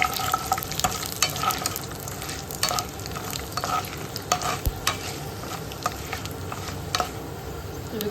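Curry leaves and dried red chillies fry in hot tempering oil, giving a steady, close crackling sizzle with scattered sharper pops and occasional stirring scrapes. No voices are heard.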